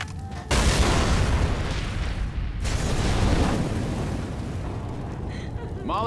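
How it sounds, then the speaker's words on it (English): A Molotov cocktail bursting into fire in Left 4 Dead 2, a loud sustained whooshing roar of flames that starts abruptly, dips briefly, then surges again and keeps burning close by. "I'm throwing Molotovs."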